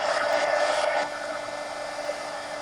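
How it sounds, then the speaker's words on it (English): A hair dryer whooshes close by as it dries wet paint on an adult coloring book page, loud at first and then softer after about a second, steady with no talking. "Let's blow dry the greedles."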